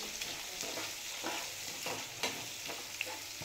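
Chopped onions sizzling in a pan with oil, a steady hiss broken by periodic scraping strokes of a spatula, close and without any talking.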